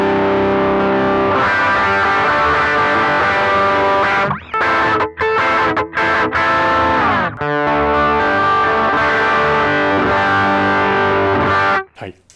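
An electric guitar runs through a BOSS FBM-1 '59 Bassman pedal with the gain turned up, giving loud, sustained, heavily distorted chords that cut off briefly a few times before ringing on and stopping at the end.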